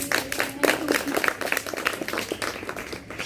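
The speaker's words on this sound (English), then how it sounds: "Big clap for her." An audience of students clapping for a girl being praised after her interview, a scattered burst of hand claps close by, mixed with some voices.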